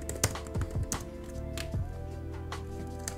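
Quiet tapping on a computer keyboard while writing code, a few scattered keystrokes and clicks over faint background hum.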